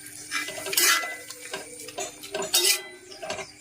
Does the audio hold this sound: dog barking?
no